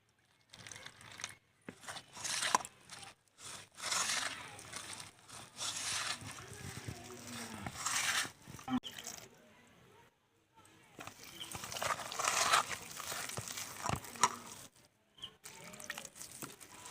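Gram flour batter for pumpkin fritters is whisked in a bowl as water is added a little at a time, giving quick scraping and splashing bursts with brief pauses, close up, under a voice talking.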